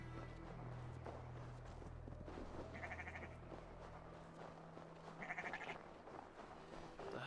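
Sheep bleat a couple of times in a Viking-era village scene from Assassin's Creed Valhalla, short nasal calls rising over a steady low ambient bed of game background sound.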